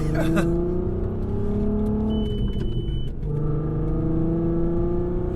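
A Volkswagen Mk4 Golf R32 with manual clutch and Haldex all-wheel drive pulls under throttle from inside the cabin, its engine a steady, slightly rising drone throughout while people talk over it.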